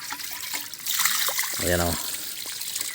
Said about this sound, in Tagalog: Igib tayo ng tubig